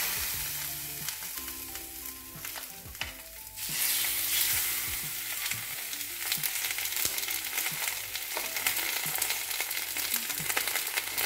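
Marinated tuna fish sizzles loudly in a preheated grill pan, a steady close frying hiss with crackles, punctuated by clattering handling sounds as the pieces are placed, continuing without talk.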